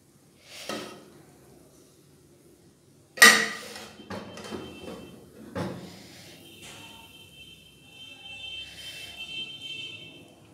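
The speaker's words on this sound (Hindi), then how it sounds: "इसको अब हम मिक्स कर लेंगे।" Chicken biryani is stirred in a metal pot with a spoon, making sparse clanks and scrapes, one loud strike and softer knocks spread over several seconds in a quiet kitchen.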